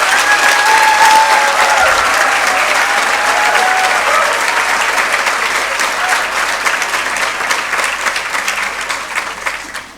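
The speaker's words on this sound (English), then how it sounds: "I think we can clap a little louder for them because they deserve it." Audience at a 2022 graduation ceremony applauds loudly and continuously, a dense roar of clapping from many hands that gradually eases off toward the end.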